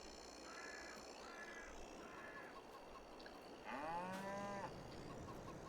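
Cows on a Farming Simulator 22 farm moo once, a mid-distance drawn-out low call rising over steady ambient game background noise, with faint bird-like tones earlier.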